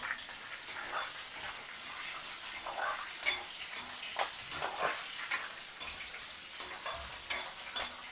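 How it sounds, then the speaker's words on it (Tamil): Mustard seeds, cashews and green chillies frying in hot oil for coconut rice, a steady bright sizzle with small crackles and pops and occasional scrapes of a stirring spoon, close and continuous. "கடுகு நல்லா வெடிக்கிறது பார்க்குறீங்க."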